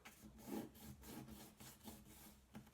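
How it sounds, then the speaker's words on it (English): Paper rubbed firmly along folded lines in a papercraft build, a soft, rhythmic back-and-forth scraping of about six strokes, faint and close with no talk. "So rub along the folded lines."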